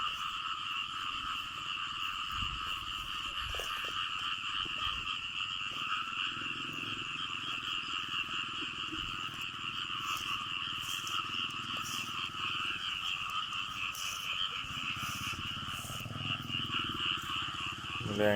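A dense chorus of frogs croaks and trills continuously after rain, steady and moderately loud, with a faint voice occasionally underneath.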